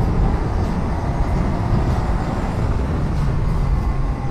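A Can-Am Riker three-wheeler, 600 or 900 model, pulls hard at full throttle, its engine a steady, loud, continuous drone mixed with road and wind rush, without any talking.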